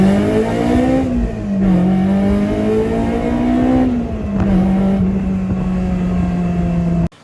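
Honda S2000 with a naturally aspirated engine pulls hard through the gears, a loud, close engine note rising in pitch, dipping briefly at each upshift, then cutting off abruptly at the end.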